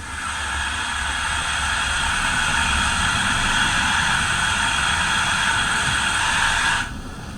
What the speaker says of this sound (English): You've then got the blower on function 12.